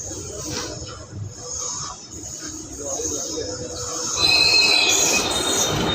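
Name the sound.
Awadh Assam Express train running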